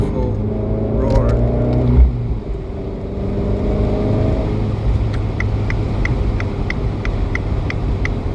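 An Abarth 595C Turismo convertible with its roof open is driven through the Netherlands. Its engine note rises as it accelerates, then settles into a steady drone under road noise, while a rhythmic ticking repeats near the end.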